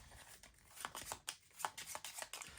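Cards for the Biome board game being shuffled by hand during a solo tabletop session, a quiet close series of rapid riffling bursts and soft slaps with no talking.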